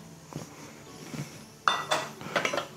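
A spoon clinks and scrapes against a bowl while ginger, garlic, chili powder, salt and garam masala are mixed into tomato paste for dal makhani. There are a few soft scrapes, then sharper, louder clinks toward the end, with no talking.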